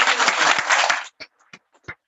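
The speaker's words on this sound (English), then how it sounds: "Please give a bigger round of applause." Panel audience at a journalism awards event applauds warmly for about a second, then the clapping thins to a few scattered, separate claps.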